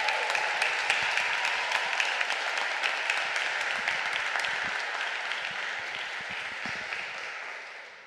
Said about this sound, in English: and a big applause to Lauri Love.